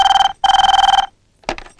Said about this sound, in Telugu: మాధవి కొంచెం ఫోన్ చూడు